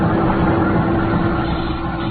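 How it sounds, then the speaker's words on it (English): Boat diesel engines run below deck in a classic radio noir drama, a steady, loud, low droning rumble with a faint hum that holds without a break. "I could hear the sound of the engines."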